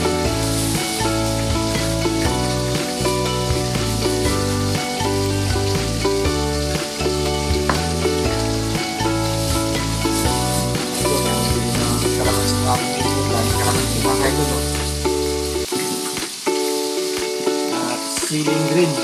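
Food frying in a pan while a viand is cooked, a loud, steady sizzle running almost the whole time over strong tonal background sound, then dropping away near the end.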